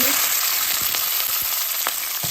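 Garlic frying in hot oil as the base for a fish curry, a loud, dense, continuous sizzle heard up close with a few soft knocks of a spoon, no talking.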